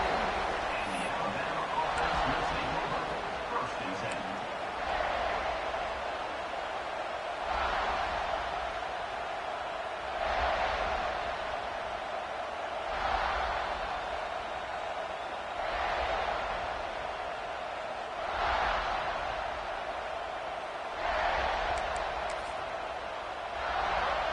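Stadium crowd in the College Football 25 video game, a steady roar with rhythmic swelling chants every few seconds, heard under near-continuous commentary voices.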